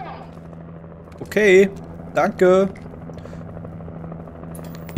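A steady, droning helicopter rotor hum in the video game Alan Wake runs under the whole stretch, holding level while someone speaks briefly over it twice.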